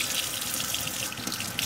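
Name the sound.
warm water running from tap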